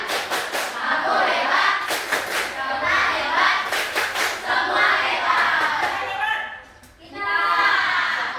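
A class of children clap together in the 'tepuk hebat' chant, loud, rhythmic bursts of hand claps mixed with shouted voices, with a brief lull before the clapping and chanting resume.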